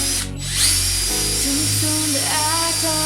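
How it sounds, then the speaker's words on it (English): An electric drill pre-drills holes in the end of a wooden board, giving a loud, close whine that steadies and shifts pitch as the bit bites, with a brief dip near the start. "I'm going to pre-drill some holes in the end of the wood here"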